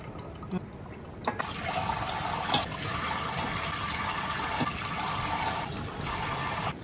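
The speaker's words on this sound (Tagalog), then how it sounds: "Ato siyang sabawan og tubig." Water pours steadily into a cooking pot holding pork belly, onion, garlic and whole peppercorns, a continuous splashing rush lasting several seconds with no talk.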